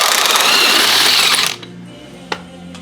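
An air ratchet spins out the fulcrum bolt from the front suspension of a 1976 Triumph TR6, a loud close rapid rattling burst that stops abruptly, followed by a faint clink.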